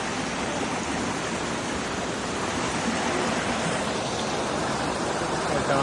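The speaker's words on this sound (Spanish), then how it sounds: "Nos vamos a bañar en esta belleza del río." River water flowing steadily, a dense, even rush of broadband noise that is moderately loud and continuous, with no voices heard.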